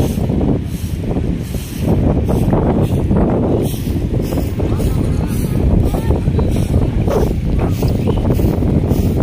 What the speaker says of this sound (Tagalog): malakas ng hangin, mga kababayan. Lumalakas na yung hangin.